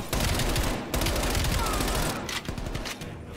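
AK rifle gunfire in the video game Black Ops Cold War, heard as loud, rapid bursts of automatic shots, close and dense, with two short breaks between the bursts.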